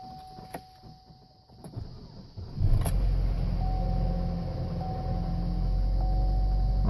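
A high-mileage car engine, replaced twice, cranks briefly after a quiet moment, then catches and settles into a loud, steady, rumbling idle close by.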